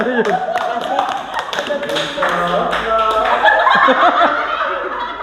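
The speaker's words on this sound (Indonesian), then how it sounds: "Oke, tepuk tangan Mbak." A group applauds during a Positive Culture presentation, a steady patter of many hands mixed with laughter and overlapping voices throughout.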